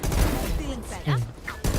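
Machine gun fire rattles in a Valorant match as quick bursts of shots, loud and close, mixed with someone talking over it.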